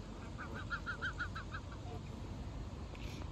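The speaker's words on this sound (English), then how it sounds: "Look at the geese." Young Canada geese in a flock being hand-fed give a run of about seven quick, evenly spaced honks, then fall quiet against steady outdoor background noise; no voices are heard.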